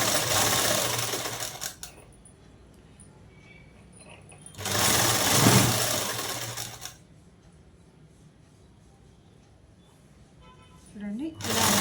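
A sewing machine stitches a dress collar in two loud, close bursts of rapid whirring, with quiet gaps between them where someone talks.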